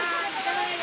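Steady broadband rush of falling water, a close, continuous roar with no breaks.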